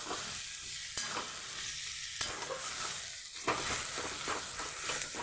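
A spatula stirs fish head and long beans in a pan over the heat, scraping and clattering in a few distinct strokes over a steady, soft frying sizzle, with no talking.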